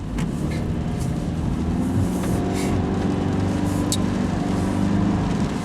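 Road and engine noise fills the cabin of a 2017 Subaru XV 2.0i 4x4 with Lineartronic transmission as it drives, a steady low rumble with faint ticks and rustles above it.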